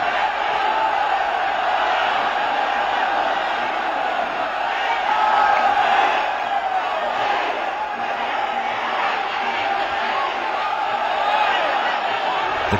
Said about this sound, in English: The crowd is going crazy as the odds start to go against the champion.